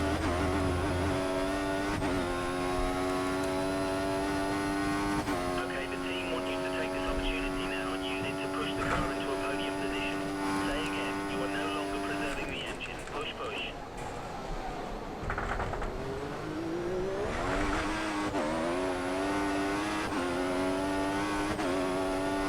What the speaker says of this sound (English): Right, so we're in 4th position in the Mercedes and around Hockenheim.